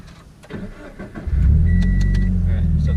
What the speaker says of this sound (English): Alright, so car is on now.